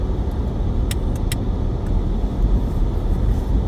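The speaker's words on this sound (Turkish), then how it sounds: "Kesin kiralık arabalar bizi geçiyor." Rental cars pass on a city seafront road in Izmir's Kordon area, a steady close road roar that swells and fades, with no voices.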